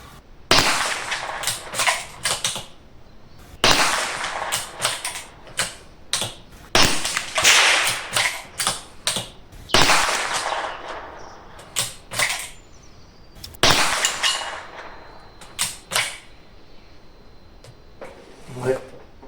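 Loud rifle shots from a Bergara rifle on a range, fired with a SAK sound moderator, sharp bursts spaced a second or two apart with mechanical clatter between them.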